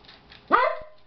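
A dog running back and forth gives one sharp, close bark after a moment of near quiet, followed by a faint tap.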